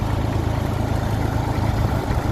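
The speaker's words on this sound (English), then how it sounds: "The only thing rattling is exhaust because I have it loose" A Massey Ferguson 35 tractor idles steadily up close, its low, even engine rumble carrying a continuous buzzy rattle from a loose exhaust, with no talk.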